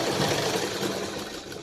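A sewing machine runs steadily, stitching through folded fabric for a tassel decoration, a continuous whirring buzz that stays close and even throughout with no voices.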